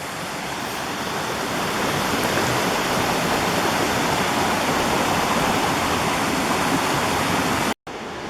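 A mountain stream rushes downhill in Canada, a dense, steady roar of flowing water heard up close, unbroken except for a momentary dropout near the end.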